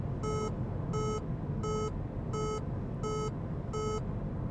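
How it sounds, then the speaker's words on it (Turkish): A 2024 Opel Astra 1.2 Turbo 130 HP Ultimate sounds its lane-keeping warning to hold the wheel: six evenly spaced electronic beeps under steady road and cabin noise. "Sesli uyarı verdi. Direksiyonu tutun diyor. Sesler arttı."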